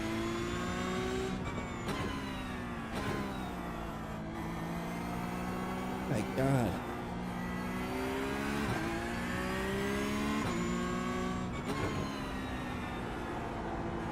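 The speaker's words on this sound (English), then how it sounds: "That Civic sounds nasty." Honda Civic race car in iRacing: a buzzing high-revving engine rises and falls through repeated gear shifts and throttle lifts, loud and steady, with a brief exclamation from a voice partway through.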